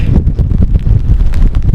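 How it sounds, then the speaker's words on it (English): Strong wind buffets the microphone in loud, continuous rumbling gusts, with no voices, outdoors in wet weather in Brittany, France. "It's a bit more windy and wet this side"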